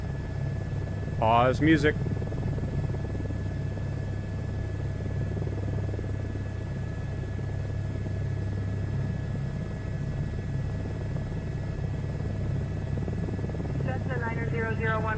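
Helicopter in a VR flight simulator game, a steady droning rotor and engine hum running throughout at even loudness, with a short spoken voice near the start and another near the end.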